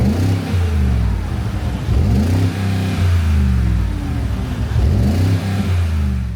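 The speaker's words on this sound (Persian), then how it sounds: "قبل از اینکه ببریمش تو خیابون صدای اگزوزش رو تست کنیم" A Mercedes-AMG G 63 engine revs repeatedly through its exhaust, rising and falling in loud deep surges, close by with no talking.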